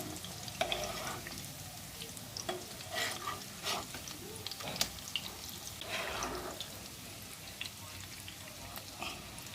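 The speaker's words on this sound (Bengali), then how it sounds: "তো আমি এই পিঠটাও ভালো করে ভেজে নিচ্ছি।" Fish roe fritters fry in a pan, sending up a soft steady sizzle with scattered crackles and pops. Occasional scraping and stirring knocks break through, and the whole sound stays quiet and close.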